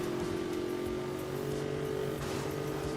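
Jaguar XKR V8 engine in the video game Need for Speed Most Wanted (2012), a steady, loud droning hum with a gently rising pitch, continuous and close throughout.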